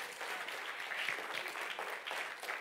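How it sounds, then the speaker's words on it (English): A church congregation gives a hand clap of praise during a worship service, a loud, dense burst of many hands applauding with some whoops mixed in, steady throughout. "Get a Lord a hand clap of praise."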